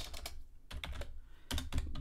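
Quick bursts of clicky keystrokes on a computer keyboard, typed in uneven clusters with short pauses between them, close and fairly quiet, with no voices.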